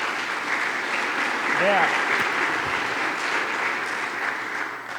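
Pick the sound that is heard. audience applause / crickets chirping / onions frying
audience applause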